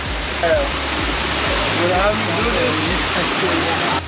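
Steady rushing roar of falling water, loud and continuous, with faint voices murmuring underneath.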